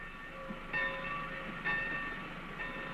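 A train runs on rails with a steady, rolling clatter and a faint tonal whine, swelling in two brief surges at regular intervals, close and continuous with no voices.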